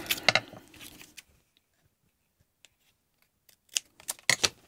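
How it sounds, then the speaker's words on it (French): Scissors cut craft paper in a few quick, crisp snips, a burst at the start and another cluster near the end, with near-silence between them and no talk. "Ciseaux."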